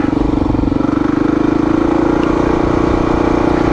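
A small motorcycle converted into an adventure bike, fitted with an original XR gas tank, idles and runs with a loud, close, steady pulsing engine note, riding on a forest track near Blairsville, Georgia, with no talk.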